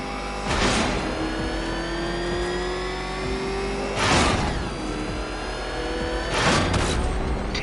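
Batmobile engine in Batman: Arkham Knight revving hard in three loud surges, with a steady mechanical drone between bursts and no talking.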